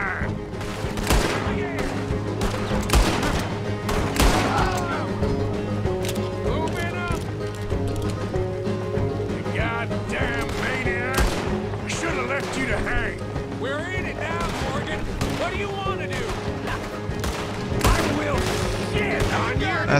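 Gunfight in Red Dead Redemption II during a prison breakout, with rapid bursts of gunshots and volleys, horse hooves and mechanical clatter, under game characters' speech and background music.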